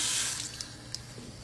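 A water tap runs into a sink with a soft, steady stream that starts strongest and then eases, leaving a few faint splashes and drips.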